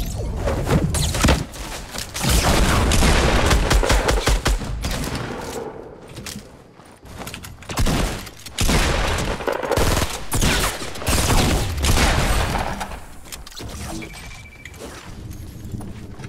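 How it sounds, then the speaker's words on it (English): Rapid bursts of gunfire in a Fortnite battle royale match, loud, dense and repeated volleys of shots with impacts and thuds, continuing nearly throughout. "He's shooting at you."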